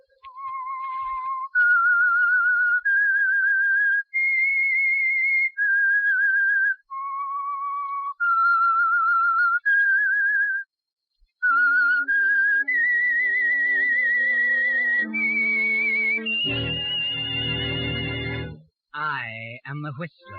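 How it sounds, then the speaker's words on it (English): A person whistles the signature theme of the 1947 radio mystery show The Whistler, a clear, lonely melody of held notes, before a full orchestra swells in and carries the tune to a dramatic finish. "That whistle is your signal for the Signal Oil Program"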